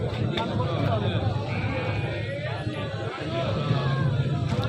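Beetal breed goats bleat amid the constant crowd babble and bustle of a busy livestock market in Lahore, the calls fairly faint and partly masked by the surrounding noise.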